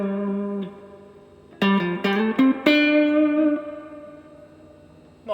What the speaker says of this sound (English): Let's turn the reverb up all the way.